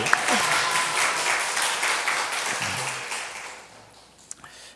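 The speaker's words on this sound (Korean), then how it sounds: "박수" A church congregation applauds during a Korean sermon, a full burst of many hands clapping that gradually thins and fades over several seconds, ending with a few scattered claps and a faint voice.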